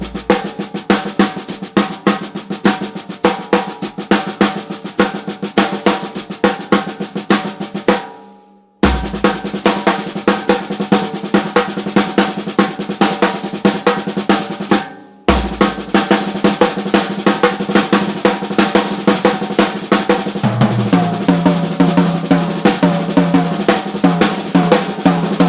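Paradiddle sticking patterns on a drum kit are played at a brisk tempo, a dense, steady stream of strokes over continuous accompaniment, with two brief dropouts mid-phrase.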